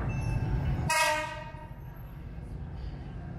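A train horn on Thailand's Death Railway in Kanchanaburi sounds one short, loud blast over a rumbling background, then cuts off, leaving a low steady hum.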